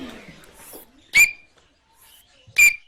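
A student voice imitates an Australian bellbird call, producing two short, loud, bright ringing whistle-like notes about a second and a half apart, with quieter sounds in between.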